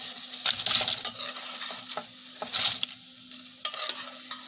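Green chile sauce hits tortillas frying in oil, giving a gentle sizzle and hiss broken by repeated scraping and clinking of a utensil in the pan, close and with no speech.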